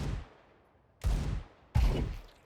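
Three gunshots from a Counter-Strike 2 aim-training map, spaced about a second apart, each a sharp crack with a booming low-end decay.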